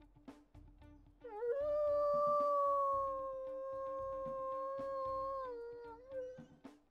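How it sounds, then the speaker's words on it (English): A long, wavering wolf howl from the video game WolfQuest holds steady for several seconds, rising at the start and sliding down at the end, with faint clicks and rustles around it. "Let's go ahead and listen to her howls as well."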